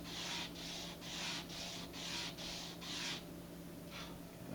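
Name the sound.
sandpaper sanding a burr on an Estes model rocket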